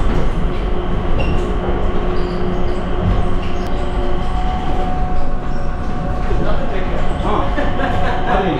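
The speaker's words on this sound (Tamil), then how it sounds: "ஏர்போர்ட்டுக்குள்ளே ட்ரெயின்லாம் போகுது பாருங்கள்" Airport people-mover train running inside the terminal, heard as a steady loud rumble and rolling rail noise throughout, with talk over it.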